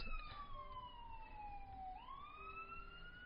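A siren wails far off, its pitch sweeping down and then rising again, faint over a steady low background rumble.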